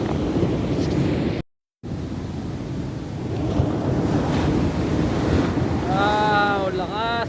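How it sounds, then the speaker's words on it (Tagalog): Rough ocean surf at San Juan, La Union roars continuously with heavy wind buffeting the microphone, a brief dropout partway through, and faint voices near the end. "talagang dumadagundong ang alon dito sa San Juan, La Union"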